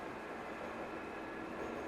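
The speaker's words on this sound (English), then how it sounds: "The train lurched into motion" A train getting under way, heard as a steady, loud, broadband rumble and hiss of rolling stock that holds constant throughout with no talking.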